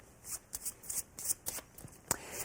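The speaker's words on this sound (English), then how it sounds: "And you shuffle using that same slip shuffle so that the queen stays on the bottom." A deck of playing cards is slip shuffled close by, giving soft, quick riffling and slapping bursts in an irregular rhythm, with no talk.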